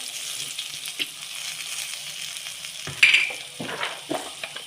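Red chilies roasting in a pan while being stirred, giving a steady soft sizzle broken by a few scraping stirs and clinks near the end, with no voices.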